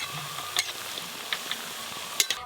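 Small semolina snacks deep-frying in hot oil over high heat, a soft, steady hiss with a few faint pops and clicks, fairly quiet and close.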